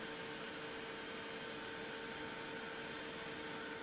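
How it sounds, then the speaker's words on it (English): A heat gun blows steadily while drying a craft card, a constant close whirring roar with a high whine and no pauses. "I'm just going to give it a quick toot with the heat gun."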